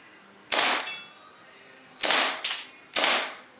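A Novak airsoft gas pistol fires three sharp, loud cracks with bursts of hissing gas, the first alone and the last two close together, each followed by a short decaying tail.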